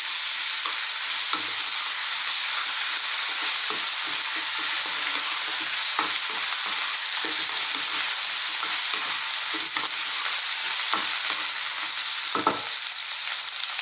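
Garlic ginger paste fries in a pan with a loud, dense, constant hiss, broken by scattered scraping taps as it is stirred.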